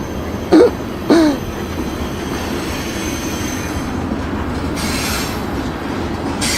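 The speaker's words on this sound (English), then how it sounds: "Big long oil train." A long oil freight train rolls past near a bridge, a steady broad rumble of wheels and cars running throughout, with a couple of short sharp knocks early on and faint squealing hiss later.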